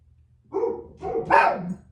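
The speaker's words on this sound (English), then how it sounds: "So we will put up with their barking for a second." A dog gives a quick burst of three close barks in succession, sharp and fairly loud, then falls quiet.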